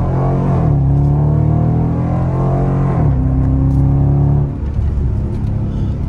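A Dodge Durango R/T with the 5.7 engine revs loudly and close by, its deep droning note climbing, holding steady, dipping, then rising again before easing off toward the end.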